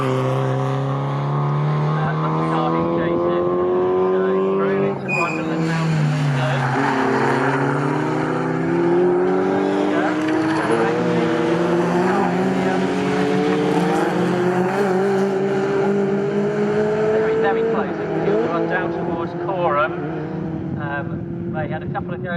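MG race cars in an MG Cup Championship race at Snetterton circuit, their engines roaring loud and continuous with rising and falling pitch as they accelerate and shift gears, nearby and sustained throughout.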